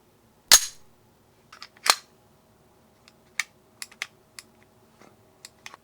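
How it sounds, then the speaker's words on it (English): A pistol's slide snaps forward with a sharp metallic clack after the slide lock lever is pressed down, followed by a second clack and a string of quieter light clicks and taps, close and otherwise silent. "I can push downwards on the lever to relieve the tension on the slide and send it forward, like so"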